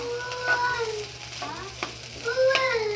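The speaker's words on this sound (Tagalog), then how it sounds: "Kaya ito ang niluluto ko para sa kanila. Yung fried rice with hot dog with egg." Fried rice with hot dog and egg frying in a pan, a steady close sizzle broken by a few scraping stirs of the spatula, with no talking over it.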